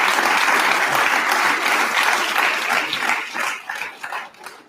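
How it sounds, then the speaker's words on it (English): A large crowd cheers and applauds in a loud, sustained roar of clapping and shouting that gradually thins and tapers toward the end. "Like the crowd screams."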